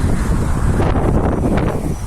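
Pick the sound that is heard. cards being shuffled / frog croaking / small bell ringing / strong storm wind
strong storm wind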